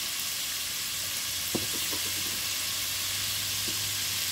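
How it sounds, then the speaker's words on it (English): Curry powder sizzling in a pan as chickpeas and potatoes are cooked, a soft steady fry with a few faint stirring clicks partway through. "allow this to saute slowly, just so that the curry releases all of its wonderful flavor"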